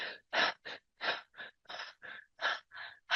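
A workshop leader demonstrates stressed breathing with a run of sharp, rapid gasps, about ten quick breaths in an uneven rhythm, close and fairly loud with short silences between them.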